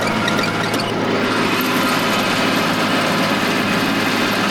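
A small Japanese mini tractor engine, freshly overhauled, idles steadily and loudly nearby, a constant rattling hum with a faint squealing whine, unbroken for the whole stretch.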